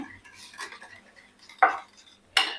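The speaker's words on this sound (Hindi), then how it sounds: "और इसे बहुत अच्छी तरह मिक्स कर लूंगी।" Chicken roll filling being mixed in a bowl, with a spoon clinking and scraping against the sides in a few sharp strokes between quieter stirring, close up.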